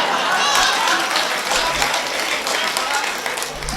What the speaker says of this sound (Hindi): अगर आप ऐसे ही ताली बजाते रहेंगे